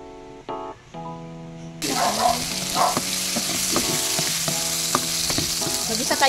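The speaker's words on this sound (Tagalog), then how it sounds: "Ginisa ko na yung bawang, sibuyas, kamatis." Garlic, onion and tomato sizzling and frying in a pan in a home kitchen, starting with a sudden loud burst of hiss when the ingredients hit the hot oil, then a steady crackle with occasional clinks and stirring.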